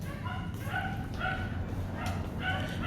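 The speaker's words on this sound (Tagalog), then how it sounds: "Dami-dami pang aso." Several dogs on a street bark and yip in short bursts, a few loud nearby barks over a steady background of traffic and street noise.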